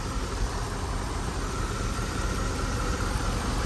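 Mercedes-Benz CL600 engine idling during an ABC Pentosin fluid check, a steady, even hum with constant broadband noise and no change in revs, heard close and alone.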